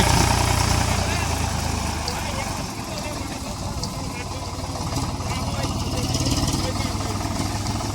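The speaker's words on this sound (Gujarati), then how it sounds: "હવે ટ્રેક્ટર જાય છે" A tractor loaded with sugarcane drives off in a Gir village, its loud steady engine rumble dipping slightly partway through and then holding, with voices in the background.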